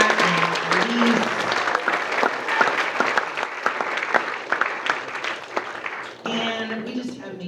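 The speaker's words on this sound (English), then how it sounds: "one more round of applause for Tamar and Elise" Audience applause at a school Writers Week session, a dense wash of clapping that holds steady and then tapers, with a voice briefly speaking near the end.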